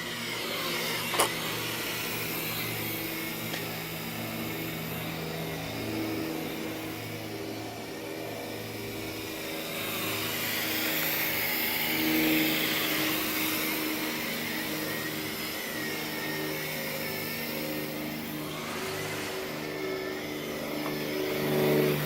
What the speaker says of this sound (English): This flies pretty good for a really cheap drone